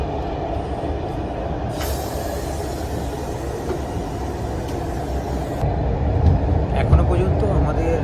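A Eurostar high-speed train runs through a tunnel, producing a steady low roar and rumble inside the carriage, with a rise in pressure-like noise near the end; a person talks over it.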